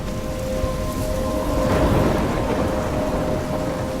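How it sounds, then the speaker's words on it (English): Steady heavy rain and a low rolling rumble of thunder in the game Life Is Strange, a loud continuous storm wash that swells briefly in the middle. "I'm trapped in a storm?"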